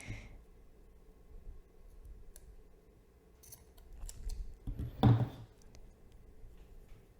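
Scissors snip through yarn while finishing a crochet friendship bracelet: one crisp, close cut after a few seconds of quiet handling and faint rustles, with no voice.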